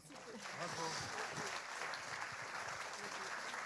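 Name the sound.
audience applause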